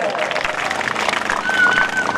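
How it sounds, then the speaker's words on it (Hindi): A crowd at an Independence Day celebration applauds for teachers, a continuous dense wash of clapping at moderate loudness with a faint tonal whine running beneath it. "सर बरकत के लिए जोरदार तालियां होनी चाहिए"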